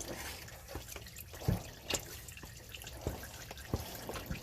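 Engine oil drains from a Mazda CX-9 into a drain pan, heard as an irregular series of soft drips and splashes over a quiet background, close by and fairly faint.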